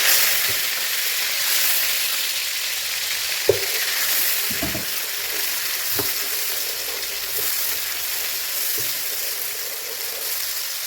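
Ginger garlic paste fries in hot ghee for a street-style daal mash fry, a steady close sizzle and hiss with a few soft stirring knocks and no voices.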